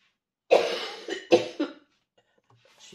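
Two or three harsh coughs, close and fairly loud, a short pause between bursts, then near silence.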